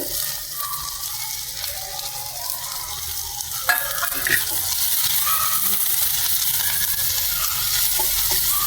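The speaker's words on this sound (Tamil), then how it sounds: "வெங்காயத்தையும் போட்டு வதக்கிண்டு" Chopped onions and ginger sautéing in a pan for a potato bonda filling, with a continuous close sizzle and frying hiss, plus a brief spoon clatter midway, no voices.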